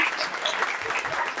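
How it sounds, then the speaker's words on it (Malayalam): Dense hand clapping from an audience at a Kottappuram diocese community gathering in Rome, brisk and continuous throughout the short moment with no pause. "സെറ്റാണെങ്കിൽ നന്നായിട്ട് കൈയടിച്ചോ"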